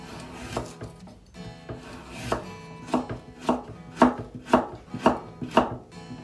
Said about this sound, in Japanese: 人参は細切りにしていこうと思います。